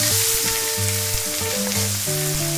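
Chicken and whole peppercorns sizzling loudly in a pan for adobo with coconut milk, a dense close hiss with steady tonal music playing underneath.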